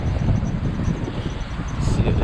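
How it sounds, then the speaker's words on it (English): Outdoor wind buffets the microphone at an AutoZone parking lot, a low rumbling roar that gusts unevenly throughout. "Sorry if it's windy"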